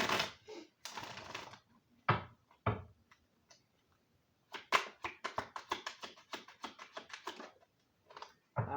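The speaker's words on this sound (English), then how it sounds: "Let's get one shuffle." Crisp, rapid riffling bursts of shuffled tarot cards, close and dry, in short clusters separated by brief pauses.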